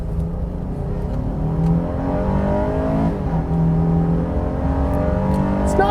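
A Honda Ridgeline HPD pickup truck accelerates with Econ mode switched off, its engine a continuous loud whirring drone that climbs steadily in pitch, dips briefly as the gear shifts, then climbs again.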